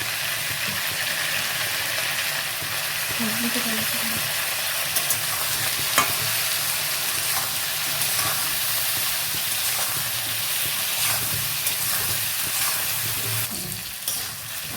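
Potatoes and pointed gourd with salt and turmeric sizzle steadily in a hot pan as a utensil scrapes and stirs through them, a constant crackling hiss throughout.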